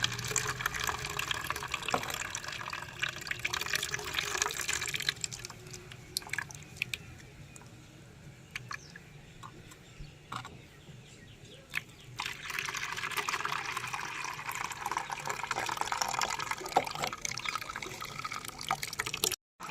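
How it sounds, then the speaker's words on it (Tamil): Water is poured over ground neem leaf paste to strain it for spraying rose plants. Splashing and pouring sounds run in two stretches, at the start and near the end, with quieter handling noises in between. "கொஞ்சம் லைட்டாக தண்ணி ஊற்றி ஃபில்டர் பண்ணுறேன்"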